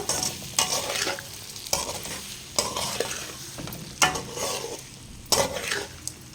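Tempering is stirred into lemon semiya pulihora in a pan: rhythmic scraping strokes about every second or so over a soft, steady sizzle, fairly quiet and with no talking.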